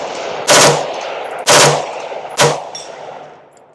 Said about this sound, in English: No issues, fire a few rounds.